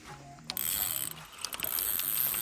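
Fishing reel drag ratchets in a fast, continuous buzzing whir while a large fish of around 30 kg is played, starting abruptly after a brief quiet moment and running close and loud.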